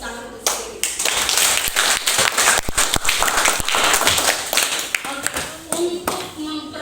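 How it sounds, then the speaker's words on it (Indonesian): A classroom group of teacher trainees clapping hands together, a dense burst of close, uneven claps over several seconds with voices mixed in and a few separate claps near the end. "Tepuk tangan untuk sendiri"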